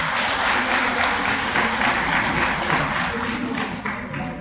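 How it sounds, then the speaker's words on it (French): An audience claps for award recipients at an institutional ceremony, a steady, full round of applause that eases slightly near the end. "Je vous demande de les applaudir,"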